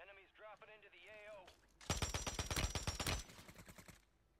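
Rapid automatic gunfire in Call of Duty Warzone on Rebirth Island, a loud burst of about two seconds following a moment of speech, then fading into quieter game sounds.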